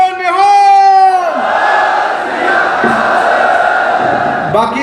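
A crowd at a Sikh protest gathering shouts the jaikara "Bole So Nihal": one voice calls out first, then many voices answer in a loud, sustained collective roar that swells and holds for several seconds.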